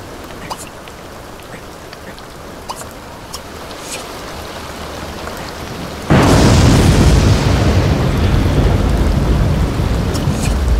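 Rain in The Sims 2 Castaway Stories, steady light pattering that suddenly becomes a heavy, loud downpour partway through, with scattered drop ticks before the surge.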